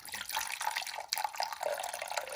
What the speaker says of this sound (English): Once you have your water, go ahead and dump it into the 4-ounce mark to make a hot cappuccino.